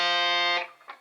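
A single distorted electric guitar note sustains in a heavy metal pre-bend release, then its pitch slides down as the bend is released and quickly fades.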